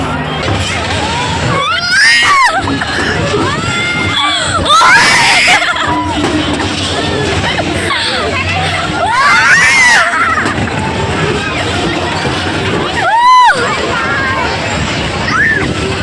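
Several people scream loudly in bursts over a fairground ride's rushing noise at a Delhi fair, with shrieks rising and falling and crowd babble between them.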